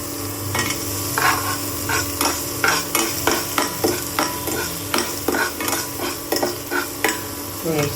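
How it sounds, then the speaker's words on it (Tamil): Onions sizzle in a pan for idiyappam while a utensil stirs them in a regular rhythm of scraping strokes, close and clear over a steady frying hiss, with no voices. "வெங்காயத்தை நல்லா பொன்னிறமாக வறுத்துட்டு லைட்டாக உப்பு சேர்த்துக்கலாம்"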